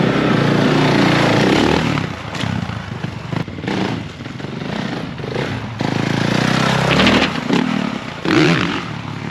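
A dirt bike engine roars and revs close by on a dirt track, staying loud and rising and falling in pitch as the rider throttles through the run.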